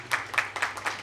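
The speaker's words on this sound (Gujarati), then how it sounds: "એવા દીપકભાઈ બારોટને પણ આપ તાળીઓથી વધાવીએ" Audience applause welcoming Deepakbhai Barot at a bhajan gathering: a short run of rhythmic clapping in a few even bursts, moderately close, with no voices.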